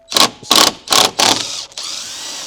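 Short bursts from a power driver back out Torx T30 bolts on an Audi RS3 grille, four quick whirring pulses followed by a longer fading spin, close and loud with no talk.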